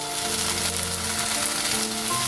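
Water spinach frying in a pan over a medium flame, giving a loud, continuous, close sizzle with a faint stirring texture and no voices.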